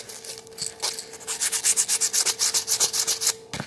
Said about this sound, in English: Got our fine grit sandpaper.